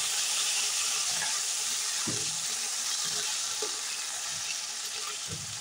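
Spice paste for matar paneer frying in a pan after cumin has been toasted, a steady close sizzle with occasional stirring scrapes and soft pops throughout.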